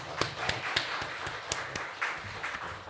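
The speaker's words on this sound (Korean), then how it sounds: "우리 다 같이 박수로 환영하겠습니다." A church congregation applauds during a Sunday worship service, with scattered and fairly even clapping heard from a moderate distance.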